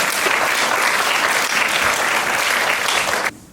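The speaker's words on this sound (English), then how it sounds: "Can we give our award winners a round of applause?" An audience at a school presentation day applauds award winners with steady, dense, loud clapping that fills the room, then cuts off abruptly near the end.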